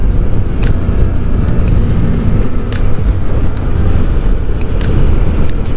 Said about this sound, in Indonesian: ramai juga dengan kendaraan